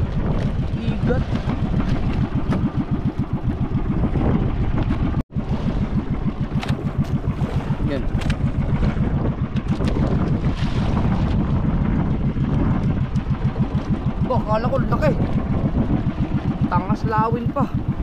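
Strong wind roars steadily across the microphone over the constant drone of a boat engine, with no letup throughout.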